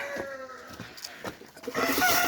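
Chickens cluck and squawk in short bursts, close by, while being fed from a small sack, with rustling and a louder flurry toward the end.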